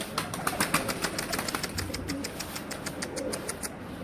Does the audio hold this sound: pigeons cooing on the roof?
yes